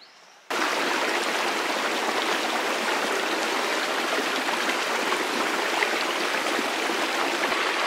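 A stream on the Pacific Crest Trail rushes steadily after a brief quiet start, a close, continuous broadband flow of water with no voices.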